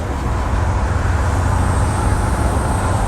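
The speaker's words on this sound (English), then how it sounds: "Hear that turbo whistle?" Loud, steady drive noise from a 1989 Crown SuperCoach school bus under hard acceleration, its engine roar filling the cabin evenly with a faint high turbo whistle riding above.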